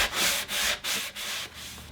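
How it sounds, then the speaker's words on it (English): Hand sanding a wood end table with a 120-grit sanding block: four long, steady rasping strokes, close and fairly loud, with short pauses between passes. "So I am going to take a sanding block and sand it down very lightly."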